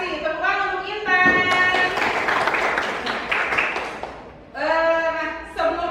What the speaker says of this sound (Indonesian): Tepuk tangan untuk Intan